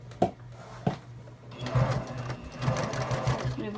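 A sewing machine stitches the lining of a zipper pouch for sunglasses, a close mechanical whirring run after a couple of sharp clunks, with a person speaking over it.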